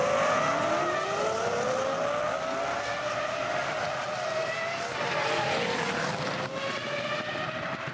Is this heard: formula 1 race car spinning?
yes